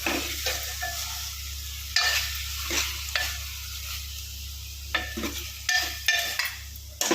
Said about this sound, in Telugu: ఒక టమాటో యాడ్ చేసుకున్నాను. మళ్ళీ కలుపుకొని